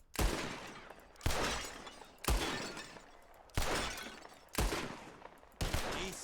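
Six sharp gunshots, each with a crash of breaking glass, as bottles are shot in a shooting contest in the video game Red Dead Redemption 2. The bursts come at a steady pace, loud and close, with a decaying tail after each.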